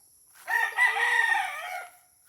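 A single gamefowl rooster crows once nearby, a loud, clear, drawn-out cock-a-doodle-doo on a breeding farm, with quiet before and after.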